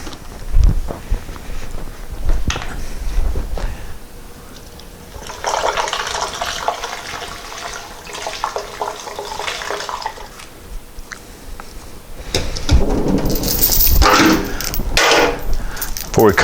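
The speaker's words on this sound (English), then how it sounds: "Go fill this with hot water and dump another one in there." Hot water pours and fills a container during fuel tank sealing work on a Porsche 912, heard as broad splashing rushes in two long stretches, with clunks and handling noise in between.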